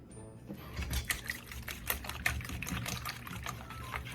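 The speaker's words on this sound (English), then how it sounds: "You want to stir it like this first to break up the yolks." Eggs being beaten with a whisk in a bowl to break up the yolks, a fast continuous clatter of rapid taps and sloshing, close and steady throughout, with no voices.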